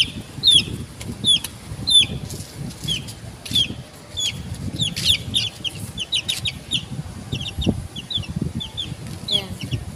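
Young chicks peck and flap nearby, with wing flutters and scuffling under rapid, repeated high peeping calls.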